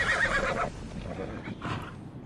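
A horse in Assassin's Creed Odyssey gives a loud, close whinny at the start, followed by fainter snorting and shuffling hoof sounds.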